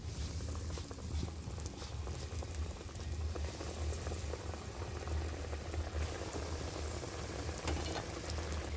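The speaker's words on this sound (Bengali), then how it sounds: "এইভাবে এক এক করে আমি সবগুলো ভেজে নিচ্ছি।" Elephant foot yam cutlets frying in oil a few pieces at a time, a continuous soft bubbling crackle with faint popping, steady and close without any voices.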